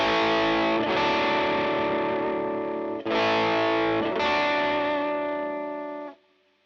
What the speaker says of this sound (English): there's instantly more distortion and more gain being pushed into the front end